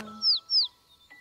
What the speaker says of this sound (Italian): Oh, un uccellino!